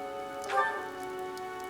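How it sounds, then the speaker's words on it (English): Heavy rain in the video game Fire Emblem Three Houses, a steady hiss of downpour under a sustained tonal music bed, with a brief swelling sweep near the start and no speech. "The rain is really coming down now."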